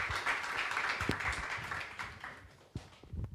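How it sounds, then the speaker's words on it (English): A conference audience at a cryptography event applauds its speakers and panelists, a fairly quiet, brief burst of many hands clapping that fades over a few seconds, with a few stray claps at the end. "now we give a round of applause to our speakers and panelists"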